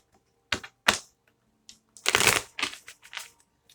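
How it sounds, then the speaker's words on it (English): Tarot cards are shuffled in a few quick bursts, crisp riffling and slapping sounds close up, with short pauses between them and no talking. "Let me do one more shuffle."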